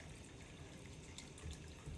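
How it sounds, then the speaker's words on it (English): Water running steadily into a 7-quart pot of turkey broth, a soft continuous pour and splash, faint and even throughout. "So I'm going to add more water"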